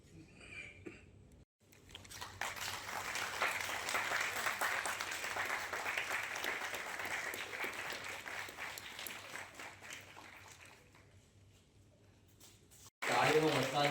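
An audience at a literary event breaks into loud, sustained applause lasting about ten seconds, dense and steady before cutting off abruptly, with a voice briefly heard before and after.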